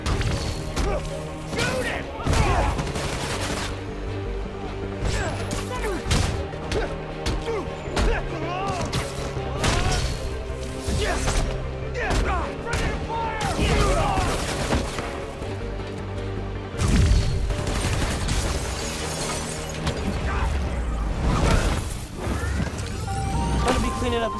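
Gunfire and impacts from a Spider-Man video game crack out in rapid bursts with thuds and crashes, loud and busy throughout, mixed with game dialogue and sound effects.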